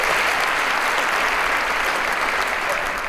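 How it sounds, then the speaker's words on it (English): Steady, dense clapping from a large audience, sustained at an even level for a few seconds with no voice over it. "so let's hear it for Bill"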